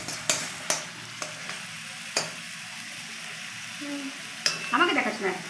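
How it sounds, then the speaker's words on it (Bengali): Spice paste for prawn malai curry stir-fried in a pan: a low sizzle with a few sharp spatula taps and scrapes against the pan, and a brief voice near the end. "মশলাটা ভালো করে কষিয়ে নিতে হবে, কাঁচা গন্ধটা যাতে মশলা থেকে চলে যায়।"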